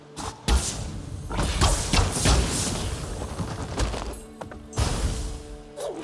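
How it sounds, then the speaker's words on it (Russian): Heavy thuds and bursting impacts from combat in Ori and the Will of the Wisps, exploding projectiles, several loud hits spread across the clip with whooshing in between. "Так, его снаряды еще дополнительно взрываются."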